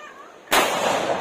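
Homemade bamboo cannon firing a New Year firecracker blast in a rural province, one sudden loud boom that follows a quiet moment and rings out into a long, noisy decay.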